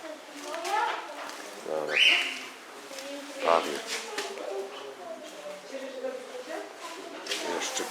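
Parrots in an aviary inside a palm house in Wałbrzych give scattered chirps and squawks, moderately close, under people talking.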